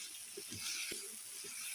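Oil sizzles in a pan with cumin seeds, a quiet, even hiss with a few soft knocks, heard close and alone.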